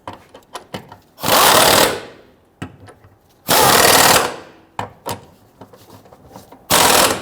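A power tool whirs in three loud, sustained bursts while tightening a bolt on a fuel tank strap of a 2006–2012 Toyota RAV4 3.5L V6, with clicks and clanks between the bursts.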